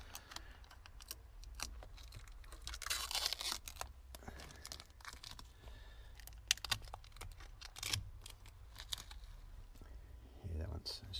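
Blue protective film being peeled off new car pedals on a Toyota 86 GTS, a quiet scratchy tearing and crinkling that comes in short bursts, with faint rustling and handling noises in between.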